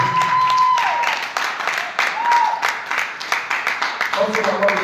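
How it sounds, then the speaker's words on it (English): A church congregation claps together at a thanksgiving service, with dense, steady applause and voices talking over it. "I want you to clap for Jesus for yourself."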